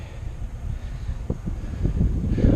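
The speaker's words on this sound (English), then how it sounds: "It's pretty windy up here today." Wind on a rooftop during a roof inspection, heard as low, rumbling buffeting that gusts louder toward the end, with no other sounds over it.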